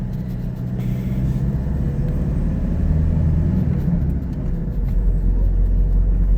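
A Toyota Innova 2.8 diesel climbs a hill, its engine a steady, loud low rumble from inside the cabin that builds slightly as it pulls, with no talk.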